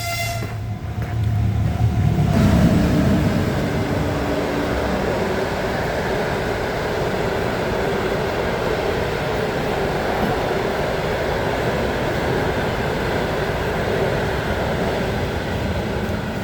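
A moving train rumbles steadily from inside, a continuous low roar and rattle with a louder clatter early on.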